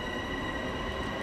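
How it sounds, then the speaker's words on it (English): A Long Island Railroad train pulls into a station in Train Sim World 2020, a steady loud rumble of wheels and engine with a faint high squeal running over it. "that's our train coming into the station right now."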